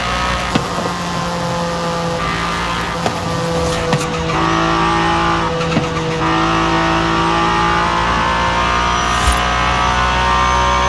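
A Cadillac DLC race car in the Forza Horizon 5 video game roars with a loud, buzzy side-exit exhaust, rising through gears with sharp shift breaks and brief tire squeal, close and unbroken throughout.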